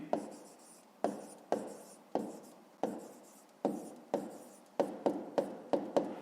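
A pen or pencil writes on paper during a fifth-grade maths exercise. Crisp scratching strokes come in short bursts with brief pauses, close and quiet, with no talking.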